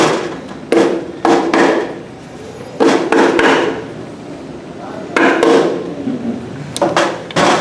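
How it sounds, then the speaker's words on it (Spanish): A rubber mallet taps a motorcycle clutch assembly into place, striking in sharp repeated knocks, singles and quick pairs spread across the stretch with quiet gaps between, close and loud. "Podemos también ayudarnos de un martillo de goma."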